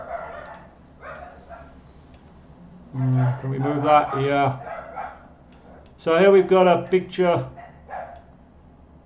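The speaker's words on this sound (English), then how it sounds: "Sorry about the dogs." Dogs bark in the background of a home online English lesson while a teacher talks over them. The barking is intermittent and moderately loud.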